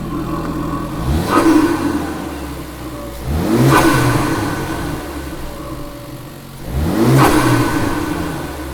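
A MK3 Ford Focus RS engine with a GFB DV+ valve revs three times close to the intake, each rise loud and whooshing before dropping back to a rumbling idle.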